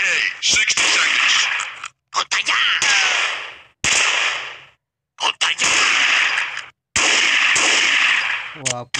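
Sharp gunfire and explosions from the video game Enemy Strike crack in repeated loud bursts separated by brief silences, as bombers strike a position.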